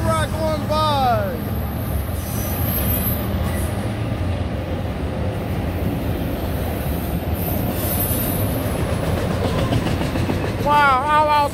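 A CSX autorack freight train led by locomotive 3131 rolls steadily past at close range, wheels rumbling and squealing on the rails, with brief voices near the start and end.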